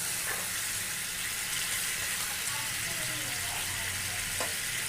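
Mutton curry sizzling as it fries in a pan, a continuous bright hiss with faint stirring scrapes underneath, steady and close throughout.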